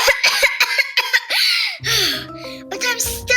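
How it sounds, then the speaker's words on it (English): A voice coughs several times in rapid bursts and then breaks into giggly, laugh-like vocal sounds. The sounds are close and loud, with a short silence in the middle. "But I'm still coughing."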